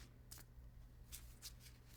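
Tarot cards being shuffled by hand in a quiet room, a few soft papery riffles and flicks spread over a couple of seconds, faint and close.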